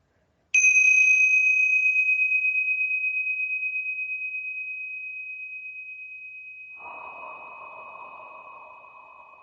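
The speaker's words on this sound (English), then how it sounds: "I'm going to ring the tingsha bells to clear any negative energy" Tingsha bells, small Tibetan hand cymbals, are struck once to open a channeling session, giving a bright sustained ring with a high overtone that decays slowly over several seconds, joined near the end by a soft broadband hiss.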